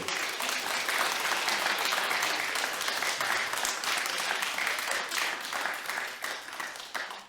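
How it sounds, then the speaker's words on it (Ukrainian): Comedy show crowd breaking into steady applause, a dense wash of many clapping hands held evenly for several seconds before tapering off at the end. "аплодисменти собі, дівки"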